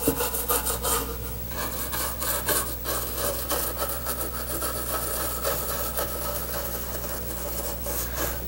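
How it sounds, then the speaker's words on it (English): A brush scrubs paste wax down into the carved wood of a 1910 dining chair, making a steady, close, rasping rub that continues without pause. "I'll use a brush to work the wax down into the carving."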